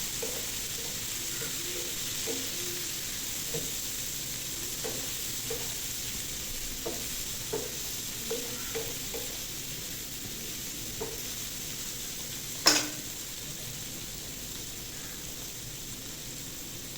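Bitter gourd (korola) bhaji fries quietly in a pan, a soft, steady sizzle with occasional light stirring taps and one sharp metallic clink, heard close and faint.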